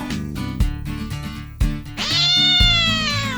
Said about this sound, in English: A cat that Tom had hidden there sprung out at Aunt Polly.